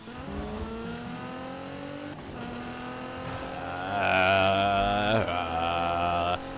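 A race car engine in the Need for Speed video game holds a steady, rising drone with clear harmonics. It swells louder and revs higher toward the end, with no talk over it.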